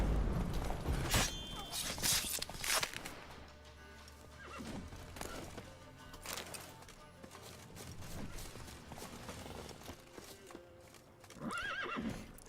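A horse in The Witcher 3 video game cantering with rhythmic hoof clip-clops, snorting and a loud whinny near the end, over soft game ambience and background music.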